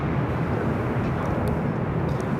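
An airliner landing on runway 24 right at Los Angeles International Airport, a steady broad roar of engine and air noise heard from a distance, unbroken and without voices.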